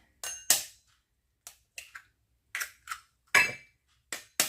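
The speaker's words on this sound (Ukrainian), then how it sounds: "Вбиваю яйця." Several sharp cracks and clicks in a quiet kitchen, irregularly spaced, like eggs being tapped and broken into a bowl, close by.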